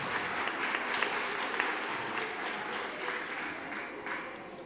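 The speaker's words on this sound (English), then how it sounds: "Let's get another round of applause for that performance." An audience claps after a performance at a fifth-anniversary MACFEST event at The Whitworth, with steady, moderately distant applause and no talking.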